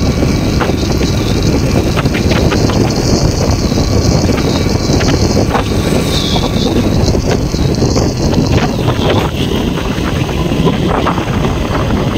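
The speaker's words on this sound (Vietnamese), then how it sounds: "Gió là các bạn nghe có gió không?" Strong wind blows across a hilltop road near Cấm Sơn lake, a loud continuous roar buffeting the microphone throughout with no pauses.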